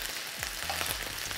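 Chipolata sausages fry in a pan with a steady close sizzle and crackle, broken by a few soft scrapes and stirring knocks, and no one speaking.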